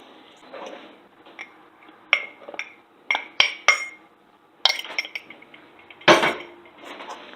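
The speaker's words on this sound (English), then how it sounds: "I'm just adding it and mixing everything with the butter" Close clattering and clinking of a utensil against a bowl while sugar and flour are mixed into butter for an apple crisp topping, irregular knocks and scrapes in bursts with a louder clank near the end, no speech.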